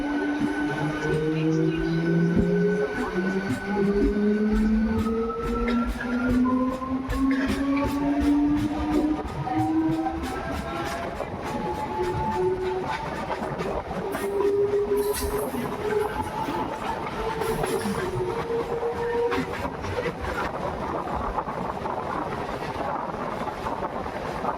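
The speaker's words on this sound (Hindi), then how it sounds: "कर्व ख़त्म होने को है, इसलिए एक्सेलरेशन की आवाज़ आने वाली है और फिर मेमो अपनी स्पीड बढ़ा लेगी।" Indian Railways MEMU electric train running on from a curve near Kota, a steady loud rumble of wheels and rail with rising motor tones climbing in pitch as it speeds up, continuous throughout.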